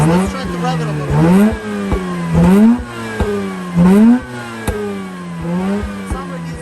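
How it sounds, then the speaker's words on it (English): A Mazda RX-8 rotary engine, being worked on after flooding and failing to start, revs in four rising bursts from a rough idle, loud and close, with pauses between each rev. "let's try to rev it a little bit"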